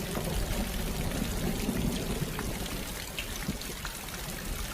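Rainwater pouring through an open pipe fixed along the edges of a roof for rooftop harvesting, a continuous rushing trickle mixed with rain patter, steady and close.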